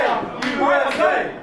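A crowd at an indoor wrestling show in Canada chants "USA" at a British wrestler, loud rhythmic shouted syllables close by.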